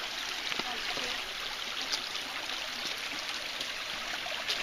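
Creek water flows and burbles steadily across a hiking-trail crossing at Viles Branch Creek, a constant broadband rush, fairly quiet, with faint splashes and soft voices underneath.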